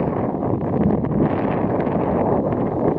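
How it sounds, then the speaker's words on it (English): Steady, loud wind roars across Hawksbill Summit in Shenandoah National Park, buffeting the microphone with constant broadband rumble and no voices. "Kind of windy up here."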